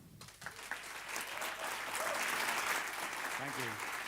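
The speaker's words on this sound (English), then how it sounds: "Please welcome with a loud applause for Adam Nolly Getgood." An audience applauds to welcome bassist Adam "Nolly" Getgood at a Dingwall bass workshop, the clapping building quickly and then holding as a dense, steady wash of hands from a sizable crowd.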